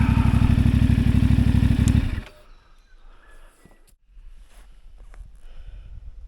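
A CF Moto 450MT motorcycle engine drones loud and close with a pulsing rhythm on an enduro loop on the Sunny Coast. It cuts off sharply after about two seconds, leaving quieter rumble and rustle.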